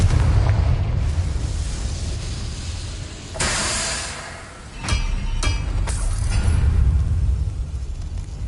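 Confringo blasting spell in Hogwarts Legacy firing off as a booming explosion with a hissing burst, followed by several sharp crackling impacts over a steady low rumble, with no talking.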